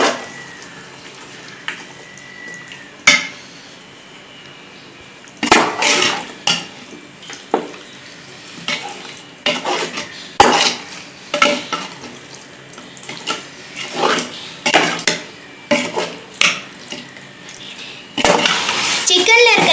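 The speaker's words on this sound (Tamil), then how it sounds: "மசாலாவோட மிக்ஸ் பண்ணிடலாம் சிக்கனை நல்லா." Chicken is stirred with masala and ginger-garlic paste in a pot for biryani, giving intermittent scraping and clattering strokes against the metal with short pauses between, under a person talking.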